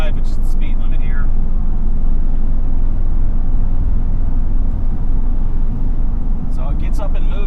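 A Mitsubishi Delica van cruises at around 55 mph after accelerating, giving off a steady low road and engine rumble throughout, with brief talk-like bursts near the start and end.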